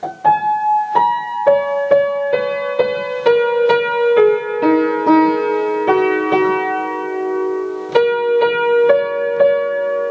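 A simple piano melody of a piece from Twilight played alone, single notes at a moderate, steady pace, ringing clearly and close with a soft sustain between notes.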